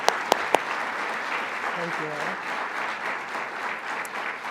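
An audience at a Bronx event claps in a sustained round of applause for the New York governor, a steady, dense wash of hands in a hall, with a brief word spoken at the end.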